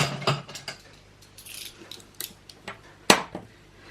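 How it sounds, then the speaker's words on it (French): Several short, sharp scraping strokes of a cutter knife slicing through paper for a baby girl scrapbook album page, sounding close, with quiet pauses between strokes and one louder, crisper cut near the end. "je commence à couper avec mon cutter"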